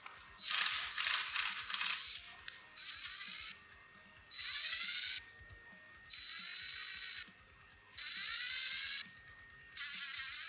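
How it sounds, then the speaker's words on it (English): Grub screws driven with thread locker into the inner collar of a machined 17-4PH stainless steel barbell sleeve, giving repeated bursts of high, buzzing mechanical whirring from a small driver, separated by brief pauses, close and alone. "now we can put some thread locker in and put the grub screws in the inner collar"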